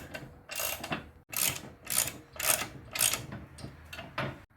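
Nuts with lock washers being tightened by hand on a 12-ton shop press during assembly, a series of close, sharp ratcheting bursts in an uneven rhythm with short pauses between them, and no talk.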